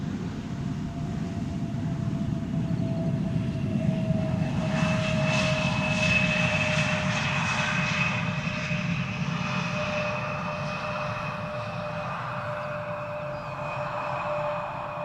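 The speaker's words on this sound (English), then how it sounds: "The long range Embraer doing ultra short flights." A 20-year-old long-range Embraer 170 jet airliner at Schiphol Airport gives a steady loud engine roar with a sustained whine, holding for the whole stretch and easing slightly toward the end.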